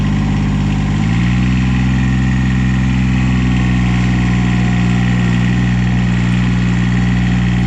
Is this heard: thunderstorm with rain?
no